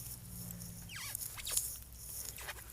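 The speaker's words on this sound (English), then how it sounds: "And my shoes are squeaking." A few faint, high squeaks with rising and falling pitch sound over a quiet background hum, like rubber soles squeaking on a smooth surface.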